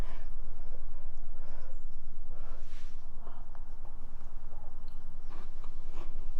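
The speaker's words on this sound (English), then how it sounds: "The crackers are crunchy." Someone chews a mouthful of hot pineapple casserole with a crunchy cracker topping, giving soft, irregular crunches and mouth noises close to the mic over a steady background hum.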